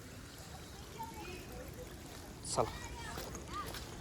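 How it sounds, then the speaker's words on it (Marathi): Rainwater runs down a forest path between bamboo and trees in Savlya Ghat in the Sahyadri hills, a steady, even wash of flowing water heard for the whole stretch, with one brief sharp chirp-like sound partway through. "पाऊस पडल्यामुळं पाणी वाहत आहे"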